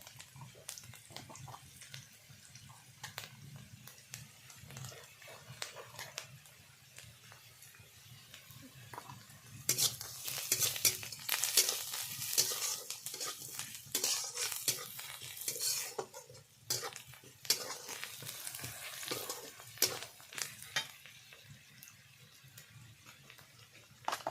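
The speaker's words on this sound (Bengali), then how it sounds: "পেঁয়াজ এবং বড়ি ভালো করে ভেজে নিয়েছি ওর মধ্যে দিয়ে দেবো লঙ্কা গুঁড়ো" Onion and bori fry in a pan while chilli powder goes in, making a soft sizzle with frequent stirring and utensil clatter that grows louder and busier midway.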